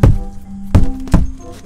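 Three hand slaps at mosquitoes inside a cardboard shelter at night, sharp loud thwacks, the first two about three quarters of a second apart and the third coming quickly after, with no talking between them.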